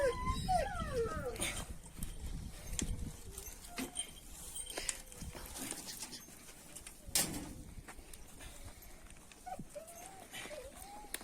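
Kangal dogs on a farm whimpering and yelping in short bursts, with pigeons cooing nearby and scattered rustling, fairly close and moderately quiet.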